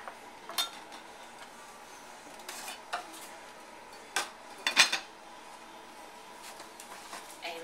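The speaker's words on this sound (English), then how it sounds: "Now we're putting in the rice. And you just want to stir it up." A spoon stirs rice in a pot for a broccoli rice and cheese casserole, sending out scattered metallic clinks and scrapes against a quiet background, with a small cluster of knocks near the end.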